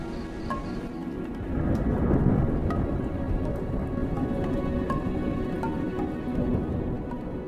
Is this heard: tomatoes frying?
no